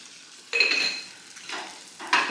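An omelette cooking in a pan with mutton gravy gives a close, steady sizzle, with a few brighter scraping or stirring bursts rising over it.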